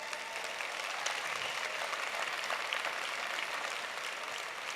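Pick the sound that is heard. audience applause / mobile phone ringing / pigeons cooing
audience applause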